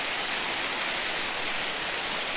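Holden Clough waterfall pouring in a steady, dense hiss of rushing water, close and even throughout with no voices.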